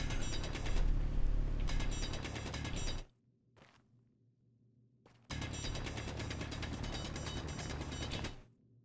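Grinder tool cutting into a battery block in Space Engineers, a loud steady mechanical grinding burst that stops for about two seconds with a brief faint blip, then resumes just as loud before cutting off.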